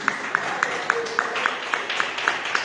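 A church congregation claps together in a steady, even rhythm, sharp repeated claps over a noisy background.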